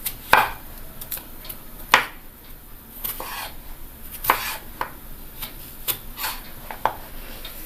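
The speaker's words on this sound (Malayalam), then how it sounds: "അതുകൊണ്ട് ഇത് നീളത്തിൽ മുറിച്ചിട്ട് ഇതിൻ്റെ അകത്തെ കുരു എടുത്ത് കളയണം." Knife cutting a cucumber lengthwise on a board, giving about a dozen sharp, close chops and taps at irregular intervals over a quiet kitchen background, with no talk.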